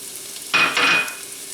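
Finely sliced scallion whites hit hot oil in a skillet, giving a sudden loud sizzle that swells for about half a second, hisses steadily, then eases back to a quiet background crackle.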